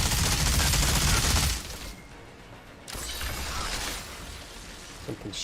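Rapid automatic gunfire in the video game Outriders, a dense loud burst at the start, then quieter follow-up fire and mechanical clatter with a few sharp cracks near the end.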